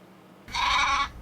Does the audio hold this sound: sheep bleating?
yes